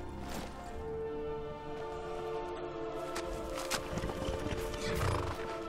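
A horse in Skyrim neighs and whinnies loudly against a steady game soundscape, followed by a few hoof clops and thuds toward the end.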